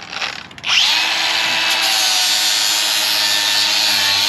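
A power drill with a 1/8 inch bit spins up and grinds steadily into metal for a mini gooseneck trailer, a loud continuous high whine with a brief rattle at the start.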